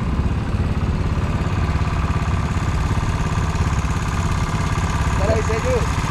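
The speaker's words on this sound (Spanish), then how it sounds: "yo quiero que ustedes vean una moto que armó un sujeto con un motor de botón" A homemade motorcycle built with a small stationary engine idles steadily with a low, buzzing rumble throughout, close by, with no break in the noise.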